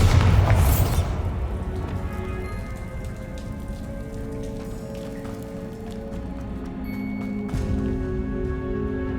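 A Bombarda spell explodes in Hogwarts Legacy with a loud, deep boom at the start that decays into rumbling debris and patter, followed by lighter game effects and a faint chime.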